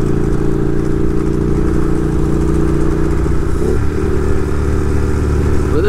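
A Ducati 1098 Streetfighter motorcycle engine runs loud and close, a continuous throbbing rumble with the pitch shifting as it revs.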